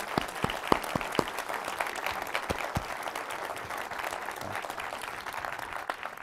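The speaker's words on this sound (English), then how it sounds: "Applause, applause, applause." Audience applause after a photographer's talk about his career, a steady dense wash of many hands clapping that fills the room, with a few sharper close claps near the start.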